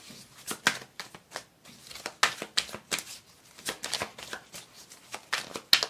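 Tarot cards are shuffled and drawn during a reading: close, crisp riffling and flicking of card stock in irregular bursts and quick slaps, fairly quiet, with no speech.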